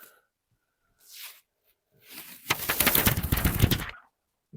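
A heat transfer sheet peeled off a freshly pressed shirt: a few soft rustles, then a loud, crackling, ripping pull lasting about a second and a half before stopping, close and with no talking.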